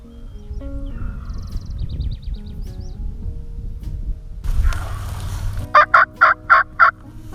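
A wild turkey gobbles in a rapid burst of five loud, rattling calls near the end, preceded by quieter outdoor rustling and faint bird calls.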